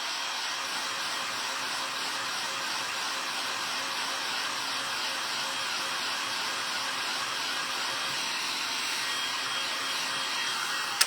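A hair dryer blows steadily and loudly on freshly painted polka-dot and flower artwork, a constant close airflow roar running unbroken for the whole stretch.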